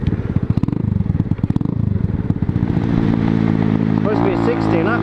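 A motorcycle fitted with a new exhaust thumps through rapid, uneven pulses at close range, then settles into a smoother, steadier drone as it rolls on, with a voice talking over the engine near the end.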